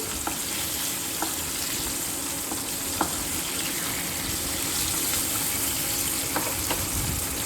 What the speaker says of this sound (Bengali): পাবদা মাছ কিন্তু খুব শুকনো মাছ, খুব সাবধানে ভাজতে হবে